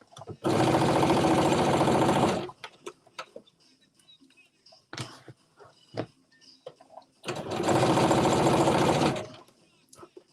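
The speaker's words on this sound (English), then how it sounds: "attaching the bottom and the top together at the waist, back stitch" A sewing machine back stitches a bodice to a skirt at the waist seam in two long, steady loud bursts, with quieter handling clicks, rustles and occasional voices between the runs.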